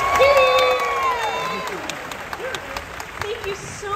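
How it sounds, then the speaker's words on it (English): Audience applause and cheering for Serena Arvizo at a Disney's Hollywood Studios 35th anniversary stage show, a steady crowd wash with a voice speaking over it early on and scattered claps continuing. "Let's give a big round of applause for Serena Arvizo"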